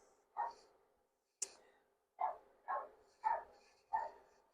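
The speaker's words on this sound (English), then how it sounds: "that's why my dogs are barking" Dogs barking at home, a series of six sharp single barks spaced about half a second to a second apart, fairly close, with a short high yip among them and no talking.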